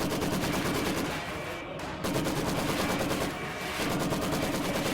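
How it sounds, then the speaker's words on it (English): A Maxim machine gun in a WWII strategy video game fires at an anti-tank gun, steady dense rattling bursts of gunfire with a brief pause midway, loud and continuous over the game's battle noise. "And this Maxim is shooting at the AT gun for some reason."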